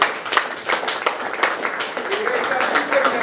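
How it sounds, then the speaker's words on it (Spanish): An audience at a Spanish-language business presentation claps continuously, with dense, loud applause that carries on evenly throughout, a voice faintly present beneath it. "Antes de que le siente Cristina, yo quiero que le den un aplauso porque es la primera vez."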